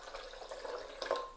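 Water is poured onto peeled almonds in a blender, a short, soft splashing trickle with a few drip-like plinks near the end.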